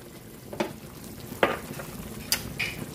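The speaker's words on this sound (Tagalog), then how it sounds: "Haluin lang natin." Food being stirred in a hot frying pan, a spatula scraping in a few distinct strokes over a steady close sizzle, with no voices.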